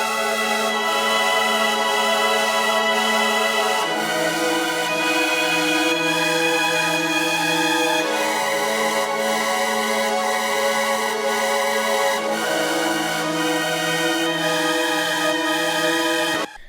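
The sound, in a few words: distorted witch house synth melody with bitcrush and reverb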